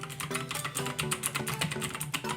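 Steady typing on a Xiaomi gaming keyboard, a rapid run of soft, fairly quiet key clicks heard up close without any voices.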